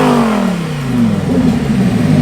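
A Lamborghini Huracan Performante fitted with a Ryft titanium exhaust revs loudly up close, its engine note rising and falling as a steady, raspy roar that fills the whole clip.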